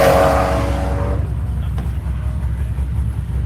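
A race car laps the Nelson Ledges circuit during Tire Rack One Lap of America, its engine giving a loud, steady roar that rises briefly and then holds a constant drone, with no one talking.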